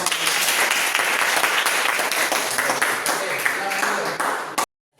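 A crowd claps and applauds steadily for several seconds with some voices mixed in, then the applause cuts off abruptly.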